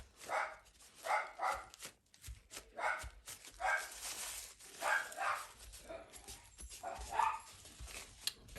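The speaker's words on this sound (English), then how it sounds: "Casa de Barking Dogs." Several house dogs bark in repeated bursts, a steady run of moderately distant yips and woofs spaced about a second apart over a faint room background.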